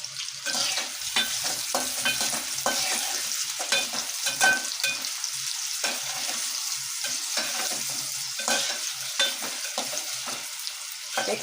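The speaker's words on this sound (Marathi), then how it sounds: "हे कांदे छान तळून घ्यायचे आहेत।" Two medium sliced onions frying in hot oil for chicken biryani, with a steady crackling sizzle and repeated scraping stirs of a spoon, close and continuous, with no talking.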